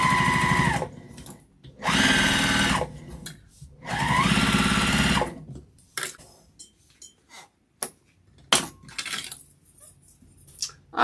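A sewing machine back-stitches a vinyl and cotton tote bag in three loud, close bursts of rapid whirring, followed by scattered clicks, taps and handling noises as the fabric is adjusted.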